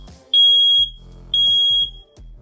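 A battery-operated Nest Protect smoke alarm sounds two loud, piercing high-pitched beeps during a test, each about half a second long and separated by short lower electronic tones.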